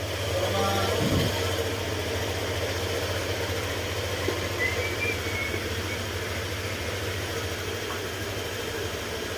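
A Honda Click 125 scooter engine idles after repair, a steady mid-pitched hum held close and constant throughout. A voice speaks briefly near the start.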